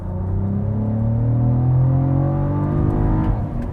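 Inside the cabin of a 2023 Cadillac CT4-V Blackwing, the engine revs and climbs through the gears as a loud, steady rumble with rising tones, with no talking.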